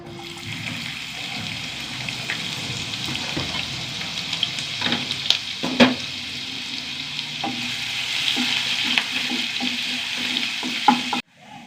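Onion and crushed garlic fry in hot oil in a pan with a steady, close sizzle and crackle throughout, broken by scraping stirs and occasional clinks, and the sound cuts off sharply near the end.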